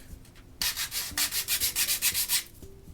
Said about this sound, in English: I'll be able to come in here and sand all of these hard edges down